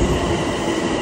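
A train pulls into a station in Japan with a loud, close rumble of wheels on rail and a faint squeal, heard alone.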